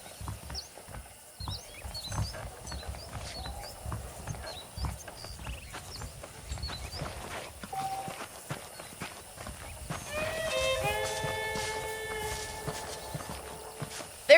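Horse hooves clip-clop at a walking pace in Red Dead Redemption, soft and steady near the listener, with chirping birds and ambient western town sounds, then a brief musical phrase rises later.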